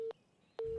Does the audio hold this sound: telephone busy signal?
yes